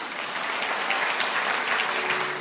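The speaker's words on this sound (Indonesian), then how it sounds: "kasih tepuk tangan dulu untuk Tuhan" A church congregation applauds together, a dense, steady wash of clapping from many hands that holds evenly throughout without breaks.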